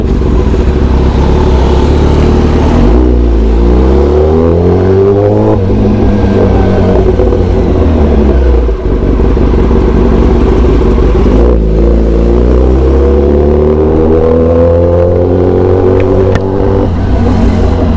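A Kawasaki ZX10R superbike roars through repeated rising revs with a loud, booming exhaust, the engine pitch climbing through gears and dropping back, close and very loud throughout.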